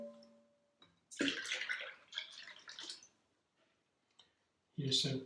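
Water poured from a pot into a bowl during buckwheat granola preparation, a splashing, gurgling pour in two bursts, under brief speech.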